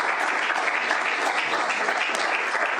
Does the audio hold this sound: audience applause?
yes